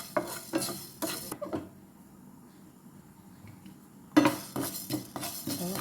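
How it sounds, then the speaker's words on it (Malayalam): Fenugreek seeds roasting in a hot pan, stirred with clinking utensil scrapes in two busy bursts around a quieter stretch, close and moderately loud. "ചൂടായ പാനിലേക്ക് ഉലുവ വറുക്കുന്നുണ്ട്."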